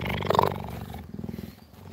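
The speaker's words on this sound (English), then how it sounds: "And you can hear the purring." A cheetah purrs and rumbles up close, a loud throaty burst early on easing into softer, pulsing low purring as the animal rests contentedly.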